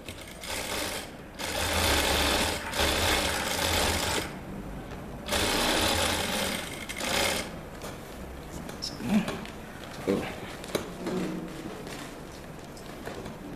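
Sewing machine stitching a shirt in several bursts of steady whirring, each a couple of seconds long with brief pauses between, followed by quieter handling clicks and fabric sounds nearby.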